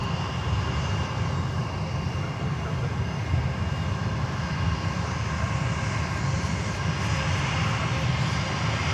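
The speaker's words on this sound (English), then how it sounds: "there comes JetBlue. I Love New York livery" A JetBlue airliner in I Love New York livery passes by the Fort Lauderdale airport, its engines a steady, moderately loud roar that continues without a break.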